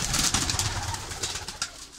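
Pigeons coo softly and repeatedly in a short, close burst, with faint background noise around them.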